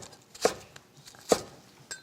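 Two sharp knife chops through the white part of a green onion on a cutting board, about a second apart, close and fairly loud against a quiet room.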